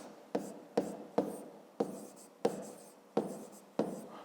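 Pen writing by hand on paper while working a fifth-grade maths exercise, a series of seven short scratchy strokes in a quick uneven rhythm, close and quiet with no talk.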